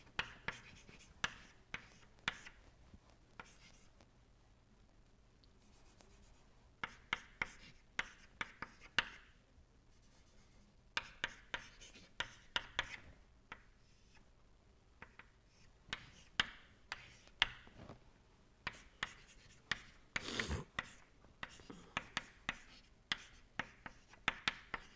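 Pen or chalk scratches out equations during a thermodynamics lecture on unsteady processes, sharp irregular taps and strokes in quick clusters with short pauses between, close and fairly quiet, with no one speaking.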